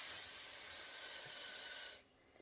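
A Nesco 9.5 digital smart canner vents a loud, steady hiss of steam in a small cabin, which cuts off abruptly after two seconds and leaves near silence.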